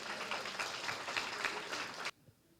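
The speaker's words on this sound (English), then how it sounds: "Please give a round of applause for him as well." Applause from the crowd at a 50th wedding anniversary party, a dense burst of clapping for about two seconds that stops abruptly, followed by near silence and a single faint clap.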